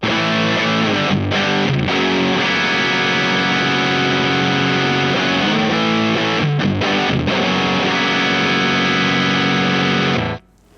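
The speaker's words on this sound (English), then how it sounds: "It's just an interesting, different distortion sound." An electric guitar through an IK Multimedia X-Drive distortion effect plays loud, heavily distorted sustained chords with a couple of brief stops, ringing continuously before cutting off at the end.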